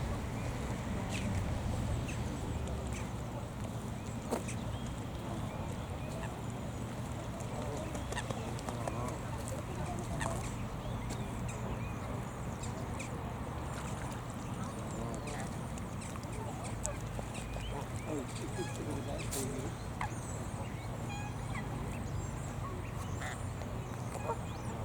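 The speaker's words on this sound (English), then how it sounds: "There's the Canada goose." Canada geese calling outdoors near water, scattered faint honks spread across a long stretch of steady open-air background noise, sounding somewhat distant.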